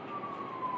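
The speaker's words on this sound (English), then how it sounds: "There's more sirens." An emergency vehicle siren wailing outside, a brief steady tone heard faintly from a distance through an indoor room.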